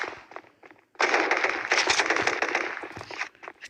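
Rapid automatic gunfire from the mobile shooter game KUBOOM: a few faint shots at first, then a loud, dense, continuous burst of machine-gun fire lasting several seconds with no talking.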